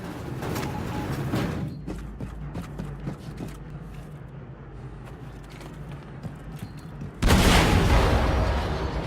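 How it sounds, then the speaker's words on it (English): Explosion in a hangar bay in Wolfenstein II: The New Colossus: rumbling game ambience with scattered bursts, then a sudden loud, broadband blast near the end that holds at full strength. "Explosion in der Hangarbucht"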